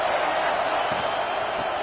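Dense, steady roar of a large football stadium crowd before a play, loud and continuous with no single voice standing out.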